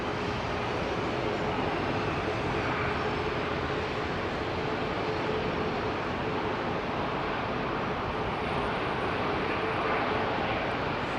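Airbus A380 powered by Rolls-Royce Trent 900 engines at London Heathrow Airport, a loud, steady broadband jet roar with a faint tonal whine, sustained throughout without talk.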